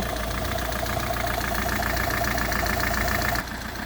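A Peugeot 407 2.0 HDi diesel engine idles steadily up close, a loud, even mechanical clatter with a rhythmic knock, dropping slightly in level near the end.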